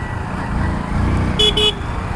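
A Hero Splendor BS6 motorcycle engine runs with a steady low rumble amid road noise, broken by two short horn toots near the end.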